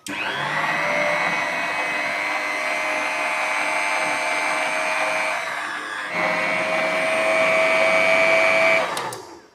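An electric hand mixer beats fresh khoa into mawa cake batter, a steady high motor whine that stops briefly partway, then whirs again slightly louder before cutting off.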